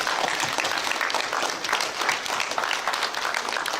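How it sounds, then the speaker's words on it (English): Steady applause from a school assembly audience fills the room, dense clapping sustained evenly throughout with no voices standing out. "Give those guys a round of applause."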